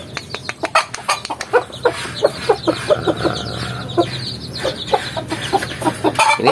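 Black Berugo chicken, a one-year-old wild junglefowl crossbred with Berugo stock, clucking in a steady run of short close calls over faint farmyard background.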